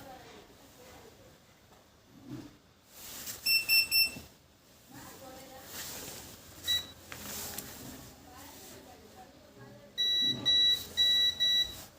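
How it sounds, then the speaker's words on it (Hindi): A multimeter set to its continuity buzzer range gives short bright beeps in a few clusters during a Redmi 8 phone board repair. Quiet talk and handling noise run between the beeps. "हम एक बार मल्टीमीटर को बजर रेंज पे सेट कर लेते हैं फिर से"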